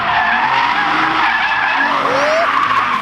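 A Nissan Silvia S13 doing a burnout makes a loud, sustained tyre screech and skid over a roaring engine. The squeal holds steady and close for about three seconds.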